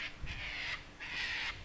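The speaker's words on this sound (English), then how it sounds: "If you can hear that bird in the background," Two harsh, drawn-out crow caws ring out one after another, moderately distant over a quiet outdoor background in Australia.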